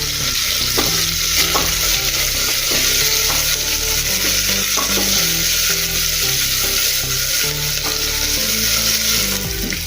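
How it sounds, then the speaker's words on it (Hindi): Large sliced onions fry for tuvar and chana dal, filling the pan with a loud, continuous sizzle while occasional stirring scrapes sound close by. "अब इसमें हम प्याज डालेंगे बड़े स्लाइस पे। इसको भी अच्छे से भूनेंगे।"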